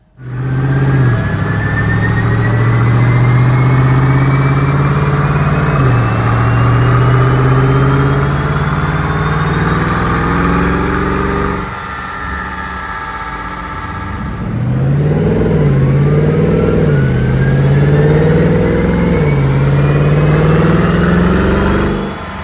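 A Mercedes C63 W204 with a stainless steel sport exhaust revs hard on a dyno. A loud, rising engine roar climbs through the gears, drops off briefly, then swells again in a second strong pull.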